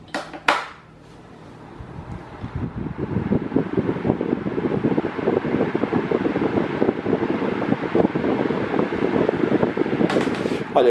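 A Mondial Maxi Power 40 electric fan on its minimum speed drones with a steady whoosh at a low, even level after a couple of brief clicks at the start.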